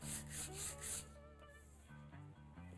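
Rhythmic back-and-forth rubbing of 120 grit sandpaper on gun metal to strip old bluing, four quick close strokes followed by slower, fainter rasping passes.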